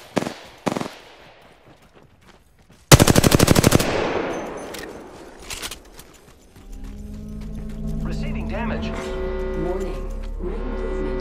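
Video game gunfire: a couple of sharp shots, then a loud rapid automatic burst, followed by scattered clatter and a droning game tone, with voices in the background.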